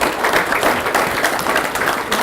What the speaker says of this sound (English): I hope you join me in giving a huge round of applause to a wonderful Fijian.